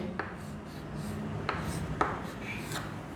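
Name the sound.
pencil writing Hindi letters on paper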